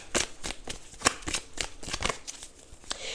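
Tarot cards being shuffled by hand up close, a rapid series of crisp papery riffles and snaps in uneven bursts.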